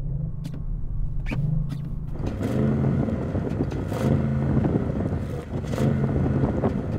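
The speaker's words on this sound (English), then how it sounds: "Sound check on this Audi. It's got the sports exhaust, by the way." A stationary Audi RS6 with a sports exhaust is revved in short bursts, rising and falling engine tones repeating several times against wind noise outdoors.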